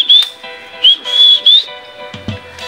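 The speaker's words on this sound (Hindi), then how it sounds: "सीटी मार देंगे ना ऐसा तो सुन लेगा" A person whistles loudly and shrilly in several short, repeated bursts outdoors in a village, trying to get someone's attention, with quiet gaps between the calls.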